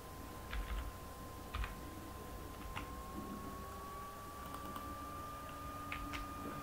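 Light typing on a computer keyboard while writing code, scattered soft key clicks in short bursts over a quiet room hum, faint and close.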